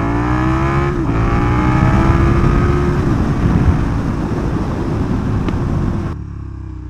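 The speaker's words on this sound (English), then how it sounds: "you can hear how this sounds with absolutely no wind protection since it's a naked bike" Riding a KTM Super Duke naked motorcycle with no wind protection, the engine revs climb then settle under a loud, steady roar of wind buffeting the helmet, fading slightly at the end.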